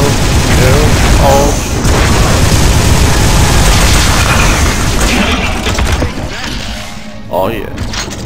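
Grenade blast in the video game Advent Rising, a loud booming rumble sustained amid dense game noise, with voices talking over it.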